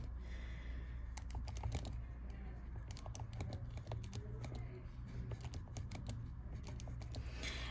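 Steady run of light plastic key taps as data values are entered into a graphing calculator, irregular clicks continuing throughout against a low hum, close and fairly quiet with no talking.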